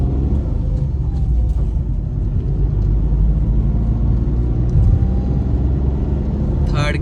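Tata Tiago hatchback engine pulling steadily through the gears, a continuous low drone and road rumble heard from inside the cabin, with a brief rise in noise near the end.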